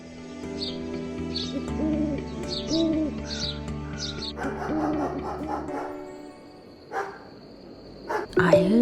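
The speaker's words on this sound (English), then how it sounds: "Wow, the birds are singing." Birds sing in the early morning, with short high chirps repeating for the first few seconds over a steady tonal background. Low hooting calls and scattered noises follow.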